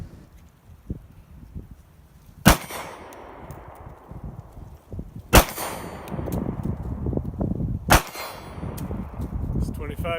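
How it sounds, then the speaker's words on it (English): Three sharp, loud pistol shots from a Kahr CW9 9mm handgun at an outdoor shooting range, spaced a few seconds apart, each with a bright crack and short ringing tail over a background of wind and faint range noise. "first trip to the range with my new Kahr."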